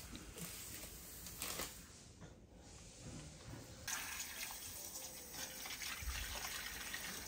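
A kitchen tap runs steadily as celery is washed at home, a constant rushing gush of water that shifts slightly in tone partway through, with no talking.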